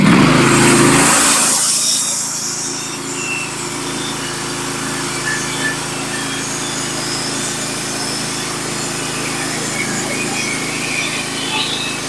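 A Norwood HD36v2 sawmill cuts through a big black locust log, a loud burst at the start settling into a steady engine drone with the blade grinding on for several seconds.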